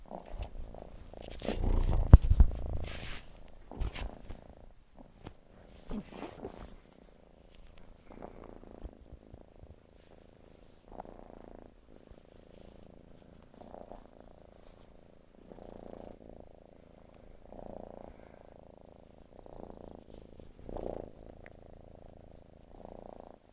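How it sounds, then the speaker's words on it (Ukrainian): A soft, steady purr rumbles close by and continues with gentle rhythmic pulses, with some rustling and handling noise near the start. "Кішка мурчить"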